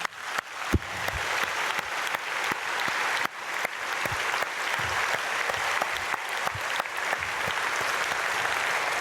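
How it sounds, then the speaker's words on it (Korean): A church congregation at an early-morning prayer service applauds in blessing, continuous dense clapping with a few sharper individual claps standing out, steady and fairly close, with no speech over it. "우리 박수로 축복하겠습니다."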